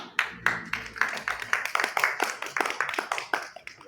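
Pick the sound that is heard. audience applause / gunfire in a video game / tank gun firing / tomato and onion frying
audience applause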